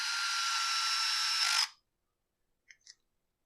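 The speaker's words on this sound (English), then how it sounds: "We'll get some screws going in here." A power driver runs screws into the plastic housing of a Husqvarna 455 chainsaw, giving one steady, loud, whining drive of under two seconds that stops abruptly, then a couple of faint clicks.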